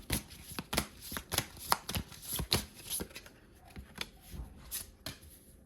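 Tarot cards shuffled and pulled from the deck, a run of crisp papery riffles and slaps in quick irregular bursts, close and clear with no talking.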